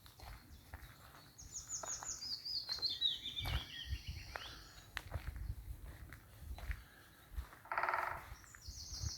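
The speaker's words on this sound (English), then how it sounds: "Hear that woodpecker?" Scattered bird calls and a faint woodpecker outdoors near old lead mine quarry workings, with footsteps crunching at times and quiet ambient noise.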